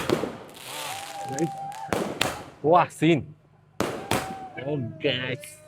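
A few loud firecracker bangs go off nearby during a celebration of an Indian cricket victory, two sharp ones close together, with people talking and reacting in between.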